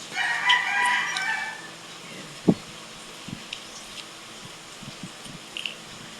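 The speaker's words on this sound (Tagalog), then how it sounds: "Kasi sa construction site, may mga nag-alaga ng manok." A rooster kept near a construction site crows once, loud and clear, then a few soft scattered knocks and thumps follow in a quiet setting.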